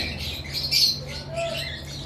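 A pair of pet birds kept for breeding squawk in brief harsh bursts, moderately loud, with a steady low hum beneath and no talking.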